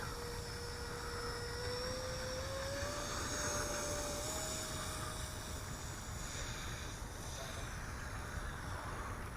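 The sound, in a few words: eFlite F-15 Eagle 64mm RC jet taking off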